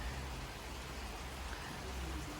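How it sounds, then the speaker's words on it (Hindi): Rain falling outside as a soft, steady, even hiss, fairly faint and continuous, with no voices. "आवाज़ आ रही है आपको बारिश की?"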